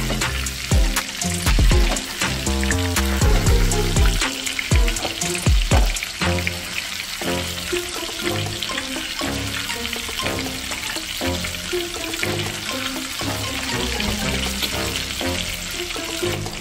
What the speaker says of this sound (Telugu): స్పూన్తో ఒక్కొక్కరిని డీప్ ఫ్రై చేసుకుందాం